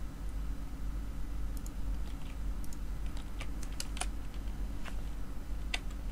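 Thai text typed on a computer keyboard, irregular light clicking keystrokes in short bursts over a low steady hum, close and fairly quiet.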